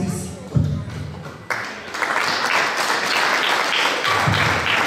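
Guests at a quinceañera break into applause after a speech, a brief thud and handling noise giving way to a swelling, sustained burst of clapping from the crowd.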